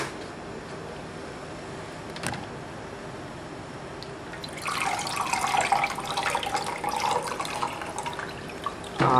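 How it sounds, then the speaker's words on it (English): Water runs from a tap onto glassware being rinsed in a sink, starting partway through as a steady splashing stream after a quiet stretch with a faint knock. "And we're gonna rinse this also."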